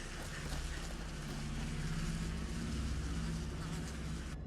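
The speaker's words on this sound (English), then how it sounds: "I assume that's flies we're hearing" A steady insect-like buzz of flies drones on without a break in the horror video game The Casting of Frank Stone, thick and fairly close, sitting under a low rumbling bed.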